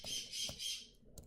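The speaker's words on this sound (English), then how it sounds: "You can definitely hear the birds in the background." Birds chirp in the background near a computer where Linux is being set up, three bursts of bright squawking calls followed by a shorter one, fairly faint.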